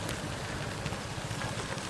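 Steady rain falling close by, a dense continuous patter with no voices.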